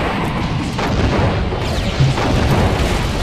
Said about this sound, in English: It seems like a perfect opportunity to use the rockets.